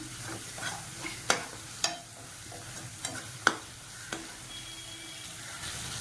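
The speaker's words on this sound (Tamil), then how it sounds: "சேர்த்துட்டு எல்லாத்தையும் நல்லா வதக்கிக்கலாம்." Masala spiced with chilli powder is sautéed in a pan, giving a quiet steady sizzle with several sharp spoon clinks scattered through it.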